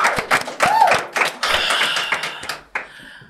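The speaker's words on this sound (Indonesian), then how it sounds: "Tepuk tangan buat Akademi FPB" An audience claps at the close of a studio show, with irregular, fairly close bursts of hand claps that fade toward the end.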